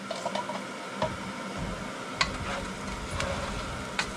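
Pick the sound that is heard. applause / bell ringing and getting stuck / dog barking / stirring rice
stirring rice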